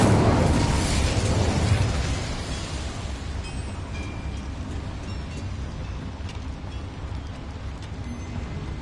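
Incendio fire spell erupting in Hogwarts Legacy, a loud whooshing burst of flame that opens strongly, then fades into a lingering crackling rumble for several seconds.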